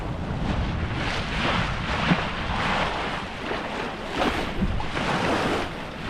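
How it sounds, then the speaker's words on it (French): A sailboat runs downwind on the open sea with the wind behind it, giving a steady rush of waves and wind noise that swells and eases gently, with no one talking. "le bateau il file à la vitesse du vent"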